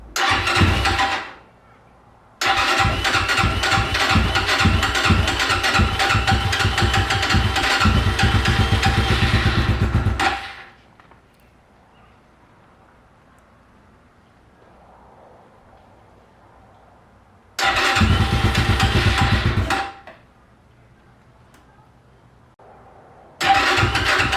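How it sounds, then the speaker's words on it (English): A cheap 250cc motorcycle engine with a loose throttle cable cranks in two long bursts of rapid, loud starter churning that fail to catch, with quiet gaps between and a third burst beginning at the end. "I'm just gonna crank it and not much is gonna happen."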